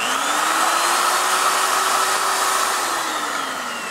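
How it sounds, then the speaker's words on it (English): An electric drill runs continuously with a steady whirring whine, its motor pitch climbing slightly and then easing back down as it spins, with no voices. "And then I'm going to hit the drill, and we're going to see if where the light comes on."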